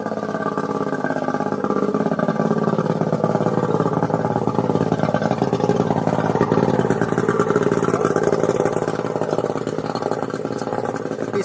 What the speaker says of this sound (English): He's flushing out the salt water from his outboard.